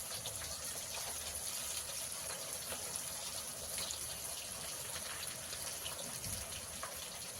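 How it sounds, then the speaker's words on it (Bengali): Fish fingers frying a second time in hot oil, a steady close sizzle with continuous bubbling and crackle, no talk. "দ্বিতীয়বারের জন্য ভাজা চলছে এটাও"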